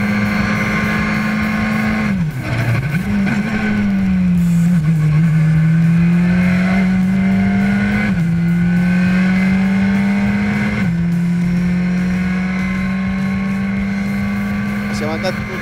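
A Peugeot rally car races flat out on a wet Monza special stage, its engine droning loudly and close with brief lifts and shifts before pulling hard again, while a voice talks over the noise.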